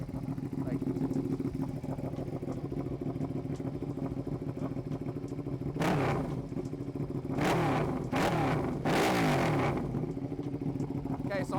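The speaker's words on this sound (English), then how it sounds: "Go ahead and just give it a few revs." A motorcycle with loud aftermarket exhaust pipes idles with a rough, thumping rumble, then is revved in several sharp bursts that rise and fall, close and very loud, with a voice briefly heard over the idle.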